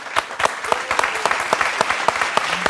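Studio audience applauding a film director on a Thai television talk show, a steady dense patter of many hands with sharper individual claps standing out, close and continuous throughout.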